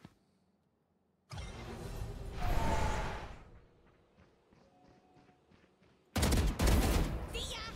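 Gunfire in the Valorant shooter game: bursts of rapid shots and whooshing action loud in the first half, quieter clicks and steps in between, then another loud volley near the end.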